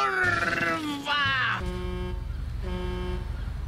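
A truck in the video game GTA Online sounds a loud, long horn blast with wavering pitch for about a second and a half, followed by a steady engine drone and a second, quieter honk.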